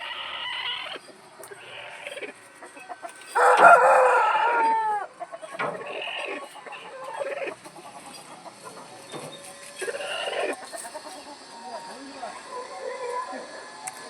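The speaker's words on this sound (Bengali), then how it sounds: "এগুলো সব প্যারট ঠোঁটের তামিল মুরগি।" Parrot-beak Tamil chickens at a farm coop with eggs, clucking close by while a rooster gives one loud crow, and a person talks over the birds throughout.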